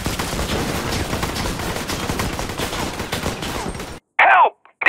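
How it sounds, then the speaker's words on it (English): Dense, continuous gunfire in a GTA 5 shootout, loud and close with overlapping rapid bursts, cut off by a short shouted voice at the end. "Help! They're shooting at me!"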